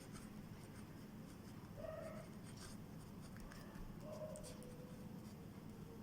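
Pen writing a journal entry in an accounting ledger, faint scratchy strokes in short irregular bursts against a low room hum, close but very quiet, no talk.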